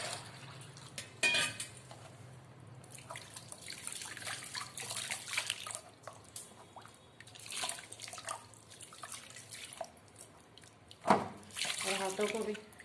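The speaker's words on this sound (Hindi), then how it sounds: "साफ पानी से धो लेंगे।" Running water splashes and trickles over hands and feet being rinsed clean, with intermittent bursts of pouring and dripping at moderate, fairly quiet level.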